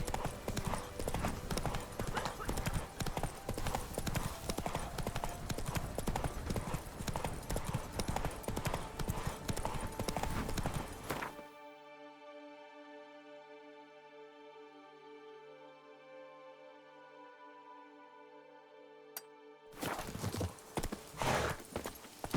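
Horse hooves clip-clop steadily while riding in The Witcher 3, loud and continuous, then drop out abruptly for several seconds before resuming; a brief voice is heard.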